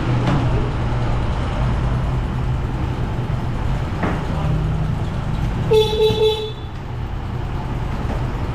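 A vehicle horn gives a short burst of toots near the end, sounding over steady engine rumble and outdoor noise at a boat service yard fitting new Honda engines.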